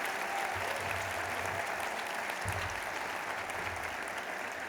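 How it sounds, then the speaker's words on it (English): An audience at a State of the District address claps in a steady round of applause, with a faint low rumble of crowd noise under the continuous clapping. "Please give her another round of applause."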